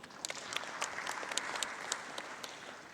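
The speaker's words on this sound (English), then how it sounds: "Let's give our presenters another round of applause." Audience applause for presenters at a live-streamed SADC event in Tanzania, a few seconds of modest, fairly quiet clapping from a small crowd, with distinct individual claps standing out.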